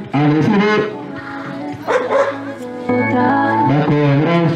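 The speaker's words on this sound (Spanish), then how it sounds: "al siguiente visitante, de nombre Salvador, también es un perrito, vestimenta de policía" Dog barking loudly and repeatedly at a rural community anniversary parade, close-up yips and tonal barks in quick bursts with crowd noise around.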